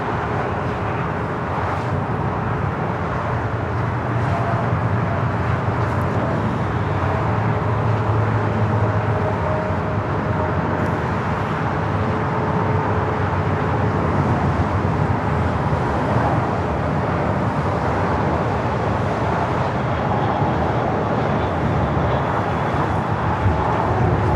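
A United Airbus A319 arriving from Mexico City at Newark in snowy winter weather, a distant, steady jet roar that swells gently and holds for the whole stretch, without talk over it.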